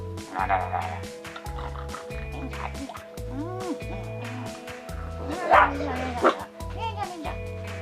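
Several household dogs bark in repeated short bursts, fairly close and loud, while someone shouts over them.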